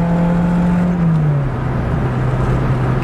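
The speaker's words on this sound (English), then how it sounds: "Shifting this incredibly close T50 box." A 1984 Toyota AE86 Sprinter with a 4AGE quad-throttle engine drones steadily from inside the car. Its pitch drops once as the T50 gearbox shifts, and the engine then settles at a lower hum.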